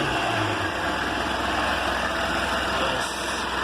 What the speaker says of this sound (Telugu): ఇది ఇంజన్ సౌండ్.